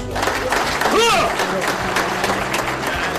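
An audience applauds US military reservists at a ceremony, a short burst of crowd clapping with a voice speaking over it and some cheering near the start.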